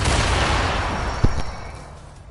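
A gunshot in a video game goes off as one sharp, loud boom that sounds partway through, set against a dense, roaring wash of game noise that gradually fades.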